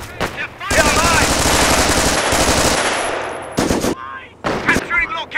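Rapid machine gun bursts in the World War II strategy game Company of Heroes, with a long sustained volley followed by shorter loud bursts and brief shouted voices between them.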